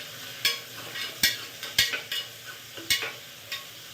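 Onions frying in a pan on a home stove are stirred with a spoon, giving a series of sharp scraping clacks at irregular intervals over a soft, steady sizzle, close by and fairly quiet.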